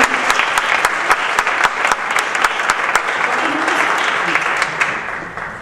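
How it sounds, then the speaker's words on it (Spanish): At an education innovation conference and panel, an audience gives loud, sustained applause to welcome a speaker, a dense steady clapping that fades slightly at the end, with faint voices beneath. "Recibamos a Macarena con un gran aplauso de ánimo."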